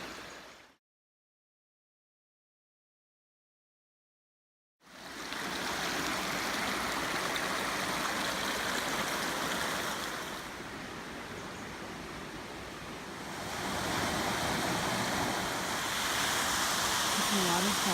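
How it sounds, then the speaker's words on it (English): A waterfall roars in a steady, loud, continuous wash of water. It starts after a brief silence and carries on without a break, with a slight dip and then a rise in intensity. "It's a waterfall."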